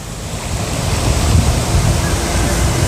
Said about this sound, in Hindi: ये जल बोर्ड के टैंकर हैं, प्रेशर से पानी मारकर यहाँ पर यमुना को जो है झाग मुक्त करने की कोशिश चल रही है।